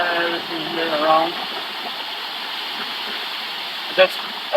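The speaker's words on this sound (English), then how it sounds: "Look how many waterfalls we have." Natural waterfalls in a Croatian national park give a steady, broad rushing roar that holds throughout, with voices talking over it early on and a brief knock near the end.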